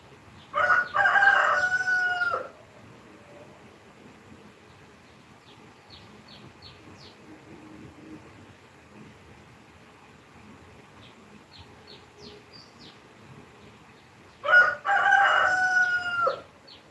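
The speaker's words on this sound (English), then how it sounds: "cock crowing." A rooster crows twice, loud and close, once at the start and again near the end. Between the crows come quiet outdoor ambience and scattered birdsong.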